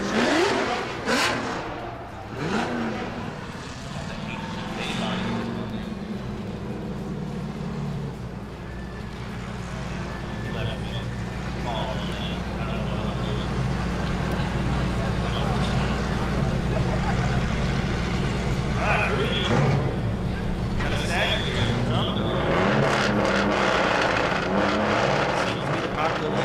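Drift cars warm up at Orange Show Speedway, engines droning and revving steadily, with some rising and falling passes. A commentator talks over the motor noise the whole time.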